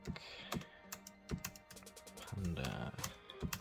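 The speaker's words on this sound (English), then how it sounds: "Now, the keyboard is pretty responsive." Clicky keystrokes on a Doqo wireless keyboard, an irregular run of sharp taps close by, with a voice talking over much of the typing.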